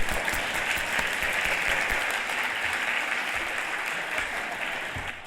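An audience at a regional drug summit in Houston breaks into sustained applause, a dense, steady wash of clapping that holds strong for several seconds before easing slightly at the end.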